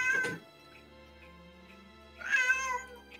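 A cat meows twice, close by, with a short yowl at the start and a longer, drawn-out, slightly wailing meow after a quiet pause.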